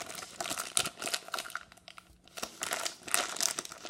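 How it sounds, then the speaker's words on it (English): Plastic packaging of a Shopkins toy being cut open with scissors, close, busy crinkling and snipping rustles that rise and fall in short bursts, with no voices. "Let's use these scissors."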